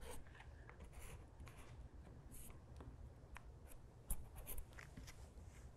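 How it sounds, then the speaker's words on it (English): Pen drawing circles onto fabric for embroidery and visible mending, a soft scratchy rubbing in quiet, close strokes, with a brief louder scrape near the end. "So I'm just going to draw it like this."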